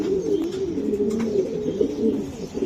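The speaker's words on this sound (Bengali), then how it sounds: "বিউটিটা অনেক ডাকে অনেক ডাকে" Beauty Homa pigeon cooing steadily, low rolling coos close by and continuous through the moment, with no talk over it.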